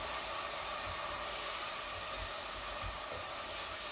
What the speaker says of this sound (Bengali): এগুলো একটু ভাজা ভাজা হোক